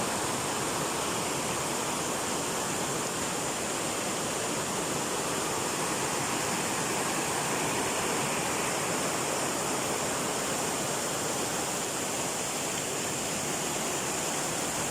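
Tat Tham Pha waterfall in Phou Khao Khouay, Laos, pours in a steady, dense roar of rushing water, loud and unbroken throughout with no voices.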